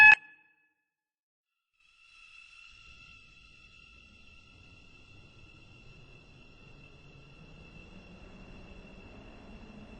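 An electric train of five coaches in the Roblox game Stepford County Railway: a short chime, a brief pause, then a steady high motor whine joined by low running rumble that slowly grows louder.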